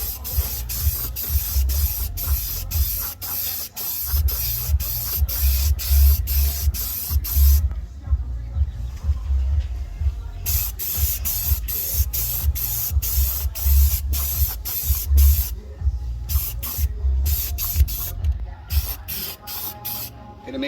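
Second coat of spray paint going onto an RC car body shell: a steady loud aerosol hiss in long bursts separated by brief pauses, near and continuous for most of the stretch.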